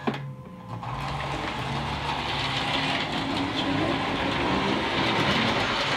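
An MPC diesel model train locomotive rolls along a home layout with a steady, close mechanical whirr and faint rhythmic clicking of wheels over track, continuous and moderately quiet.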